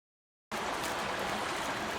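The Buda River stream flowing, heard as steady, broadband rushing water. It starts abruptly after a brief silence and continues evenly, with no talk.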